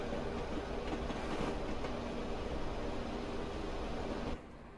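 A Class 158 diesel train in Train Simulator Classic rolls steadily over the rails, with a continuous broadband rumble and wheel noise that drops off sharply near the end.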